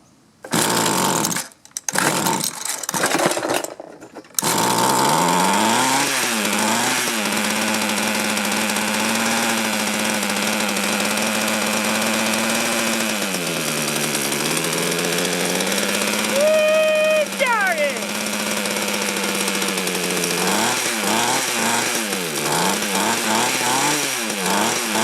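A small two-stroke engine runs loud and close for most of the clip, its pitch rising and falling as the throttle is blipped repeatedly, after a few sputtering false starts at the beginning.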